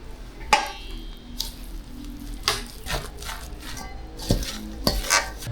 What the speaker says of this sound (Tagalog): bali atin lang po itong haluin